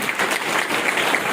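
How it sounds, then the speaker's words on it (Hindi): A crowd at a birthday celebration claps steadily to welcome a guest, a dense, loud, even wash of applause filling the whole moment without a break. "तो भैया सभी दीदी का बड़े तेज ताली से स्वागत करेंगे।"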